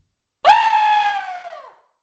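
A single loud, sustained scream lasting just over a second, rising sharply and tapering off, used as a voicemail-hotline jingle on a horror movie review podcast.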